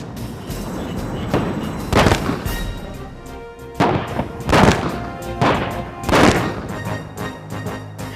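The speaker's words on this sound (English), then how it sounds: "The explosion simulated the impact of conventional air-launched cruise missiles" Several heavy, booming blasts from simulated conventional air-launched cruise missile impacts, roughly four deep thuds spaced a couple of seconds apart, each rolling out over a rumbling background.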